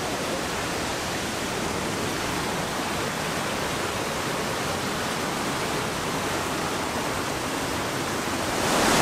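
Spring water at Naousa's drinking water source, flowing in a steady, dense rushing wash that stays even and close throughout, with no voices.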